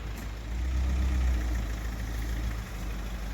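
A camper van's engine runs with a steady low rumble as the vehicle is moved, close by and fairly loud throughout, with no talking.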